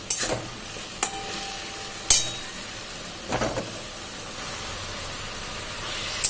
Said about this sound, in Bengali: পেঁয়াজটি আমার ভাজা হয়ে এসেছে।